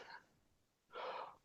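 A person sneezes once during a podcast recording: a quick sharp intake of breath, a brief pause, then a loud breathy burst of about half a second.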